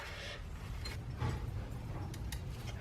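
Socket tool slipping over and seating onto the O2 sensor on a Mazda Miata during an exhaust install, giving a few faint metallic clicks and scrapes against a low, steady background rumble.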